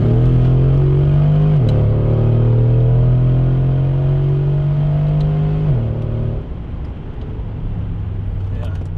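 A Brabus G63 Widestar AMG engine pulls hard through the gears, its pitch climbing steadily, dropping at each upshift and climbing again, loud and close before settling into a lower cruising drone.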